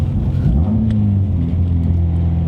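A Nissan 240SX engine fitted with an aftermarket exhaust accelerates, its loud, steady rumble climbing in pitch early on and then holding a droning tone. No one speaks.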